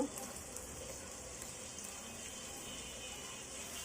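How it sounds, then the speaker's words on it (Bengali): Chopped tomatoes hit a hot frying pan for a shrimp biryani, giving a steady, soft, close sizzle and hiss that runs evenly without talk. "এখন আমি এর ভিতরে দিয়ে দিব কুচি করে রাখা টমেটো"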